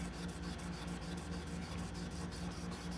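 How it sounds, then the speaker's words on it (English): A chef's knife blade is hand sanded with 600 grit sandpaper in steady, rapid back-and-forth rasping strokes, close and continuous, with no voices. "So I start off with a 600 grit, and I'm going to take the whole surface finish down to 600 grit"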